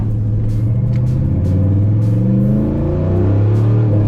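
A swapped, turbocharged 1999 Ford Ranger accelerates on the road, its engine note climbing in loud, close revs with a deep rumbling drone and rising harmonics.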